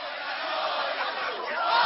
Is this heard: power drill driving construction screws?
no